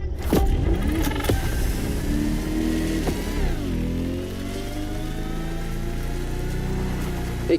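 Electric GMC Hummer driving in The Crew Motorfest, a steady loud whir and road roar with a whining electric tone that dips and rises in pitch midway, continuous with no talking.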